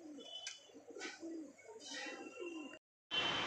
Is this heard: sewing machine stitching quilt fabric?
no